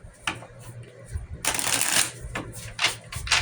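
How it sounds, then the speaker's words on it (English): Tarot cards being shuffled by hand: a few light card flicks, then a dense, close riffling burst lasting about half a second, followed by softer scattered shuffles and taps. "Let's shuffle."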